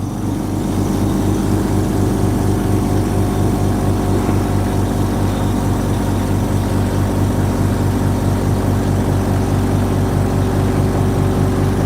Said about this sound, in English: Start the compressor again. Sorry about the noise.